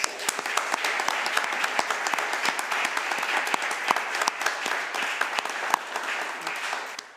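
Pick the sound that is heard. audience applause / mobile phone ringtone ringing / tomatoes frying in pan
audience applause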